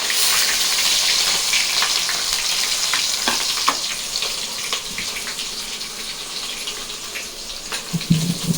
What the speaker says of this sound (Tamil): இப்போ வந்து கடுகு வெந்தயம் சோம்பு போட்டால் இப்போது அது பொறிஞ்சோன்னே